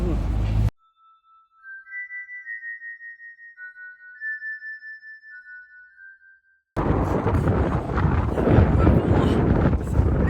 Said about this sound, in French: Il y a beaucoup de vent là d'un coup, ça s'est rafraîchi.